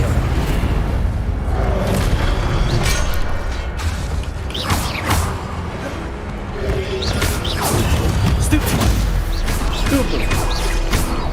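Repeated Incendio fire spells cast in Hogwarts Legacy during a fight with guards, whooshing bursts and rumbling impacts over a busy background of clanks and creaks, with voices faintly present.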